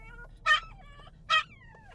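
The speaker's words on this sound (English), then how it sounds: "Stop barking. Sit down." Two short, high yelping barks from a small dog in a car, evenly spaced about a second apart, close and loud over a quiet cabin hum with faint whimpering tones between them.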